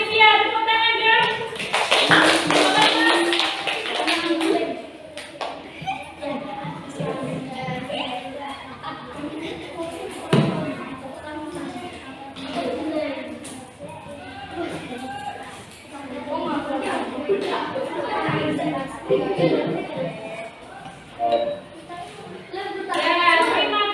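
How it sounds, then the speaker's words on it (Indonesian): Children in an elementary classroom clap in a short burst near the start, followed by scattered taps and shuffling while a teacher and children talk over the rest. "Nah, kelompoknya Alivia, tepuk tangan dong."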